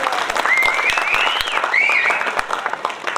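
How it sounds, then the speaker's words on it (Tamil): Crowd applause at a public gathering, steady dense clapping throughout, with a voice shouting or singing over the top near the middle. "அவனுக்கு ஒரு கைதட்டு கொடுங்கப்பா."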